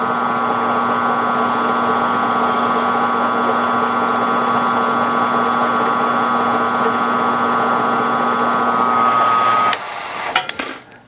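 A steady, loud whine of a power drill with a combined drill-reamer bit running continuously for about ten seconds, then stopping, followed by a few clunks and rattles.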